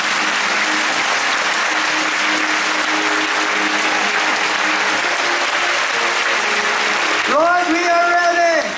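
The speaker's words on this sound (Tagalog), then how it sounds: "Bigyan natin ng 30 seconds sa palakpak ang Holy Spirit." A church congregation applauds in a sustained, dense wash of clapping that carries on for several seconds, and then a voice begins over the last moments of the clapping.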